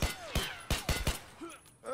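Gunfire in Escape From Tarkov: five sharp, quick shots crack off in rapid succession within about a second, followed by a short lull with faint mechanical clatter.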